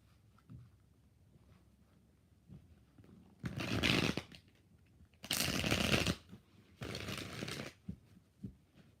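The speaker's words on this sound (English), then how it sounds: "Let's do 6 shuffles." Tarot cards shuffled by hand in three distinct riffle bursts, each about a second long, close and crisp against a quiet room background.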